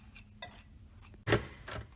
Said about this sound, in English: Now we're going to mix the dry ingredients